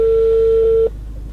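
A steady single electronic tone holds for under a second and then cuts off, leaving a low hum, like a telephone signal.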